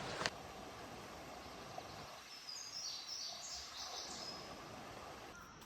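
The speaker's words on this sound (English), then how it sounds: "the water sounds are nice, and then the morning birds, super beautiful out here" Faint morning birdsong above a constant soft rush of a flowing river at an Ozarks campsite in Arkansas, with a few chirps and tweets drifting in the distance and no one speaking.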